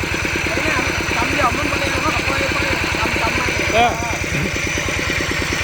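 A small single-cylinder walking tractor engine chugs steadily in a rice field with a fast, even putter throughout, with voices and shouts heard faintly over it.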